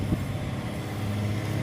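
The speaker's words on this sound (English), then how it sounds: "a truck going by loud as he can possibly do" A truck drives past loudly, a steady low rumbling roar that stays near and constant across the short stretch, with no speech.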